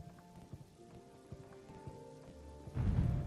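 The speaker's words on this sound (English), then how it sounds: "now I'm getting rained all over" Rain falling in the Morrowind video game: a steady soft patter with faint ticks runs throughout, swelling into a louder, denser downpour near the end, with no one talking.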